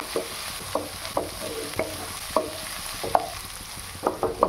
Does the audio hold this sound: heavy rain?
no